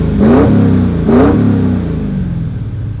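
A 2022 Ford GT40 engine revved twice in quick succession, loud and close, each blip rising sharply then falling back to a rumbling idle.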